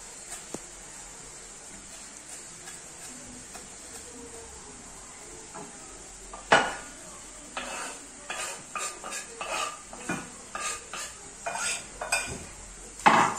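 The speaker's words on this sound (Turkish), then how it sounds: "Ocaktaki soğanı bir karıştırsan." Onions being stirred in a pot on a kitchen stove, a spoon scraping and knocking against the metal in an irregular run of clinks over a faint sizzle, louder and busier in the second half.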